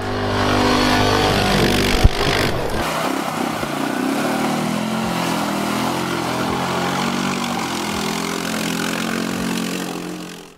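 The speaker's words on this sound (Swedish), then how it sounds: "En 600 kubiks fyrhjulsdriven fyrhjuling." A CF Moto 625 four-wheel-drive quad bike engine, lifted on its coils, revs loudly up close, its pitch rising and falling over a continuous rumble with occasional sharp pops.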